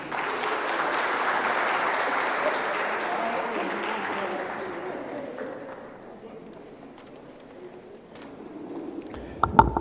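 Audience applause at a Cyril Ramaphosa Foundation event on curbing social ills at schools, starting full and steady, then thinning and fading toward the end, with a few louder knocks at the close.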